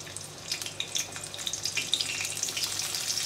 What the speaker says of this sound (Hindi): सबसे पहले प्याज को इसमें तेल में डाल के अच्छे से थोड़ा सा लाल करके फ्राई कर लेंगे